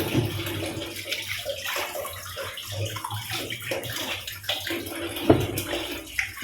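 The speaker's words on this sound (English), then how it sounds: "So I'm gonna wash them now." Cucumbers being rinsed under a running kitchen tap, a steady splashing water flow with sloshing as they are handled, close by and continuous without talk.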